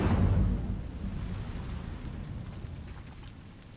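An Incendio fire spell bursts in a Harry Potter video game, a heavy rumbling whoosh that hits at once and slowly fades over a few seconds.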